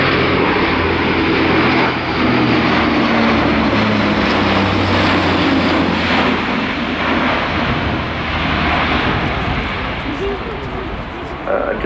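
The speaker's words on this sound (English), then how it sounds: "The A400M was first delivered to the French Air Force in 2013." An Airbus A400M military transport aircraft flies a display at the RIAT 2018 airshow, its loud propeller drone a constant, dense roar for the whole stretch, while a commentator talks over it.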